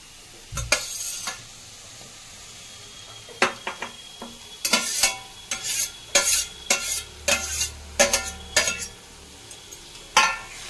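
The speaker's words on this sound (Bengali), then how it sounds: "ডিমের অমলেটটা দেওয়ার পরে বেশি জোরে নাড়া যাবে না, আলতো হাতে নাড়তে হবে।" Cabbage cooking with pieces of egg omelette in a pan, stirred gently with a spoon: a light sizzle under a run of sharp, close scrapes and taps against the pan, coming in uneven bursts.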